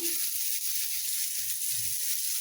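Fish sizzles in a hot pan, giving a steady, close hiss that holds evenly for the whole stretch with no talking.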